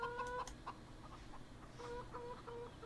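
Chickens on a farm in the video game Farming Simulator 17, clucking in short repeated bursts at moderate distance, with a louder cluster at the start and softer clucks trailing after.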